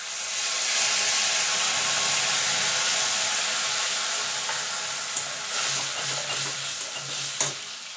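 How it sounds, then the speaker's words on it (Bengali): Nigella seeds and a paste of black and white mustard with salt and green chilli sizzle and spit in hot frying oil, a steady close hiss with stirring scrapes and small pops toward the end. "জিরেটা একটু ভাজা ভাজা করে নেব"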